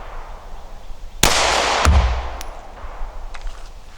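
A single loud handgun shot fired at a target outdoors during an ammunition shelf-life test, a sharp near crack followed by a rumbling echo and a fainter second report.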